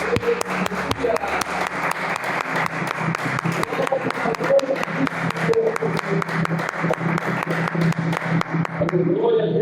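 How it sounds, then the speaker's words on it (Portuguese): A church congregation applauds during a Portuguese-language worship service, with dense, sustained clapping filling the whole stretch over a steady background of voices or music. "Vamos aplaudir o Senhor, amém, mais uma vez."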